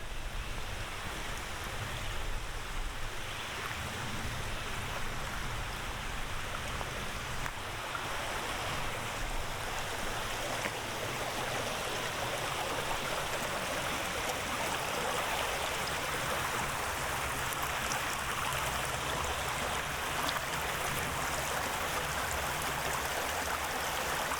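A small stream on the Appalachian Trail runs in a constant broadband rush of flowing water, steady and fairly close, with no voices.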